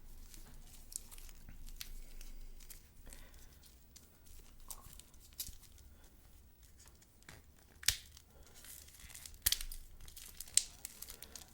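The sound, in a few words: crinkling plastic wrapping as a watch is unwrapped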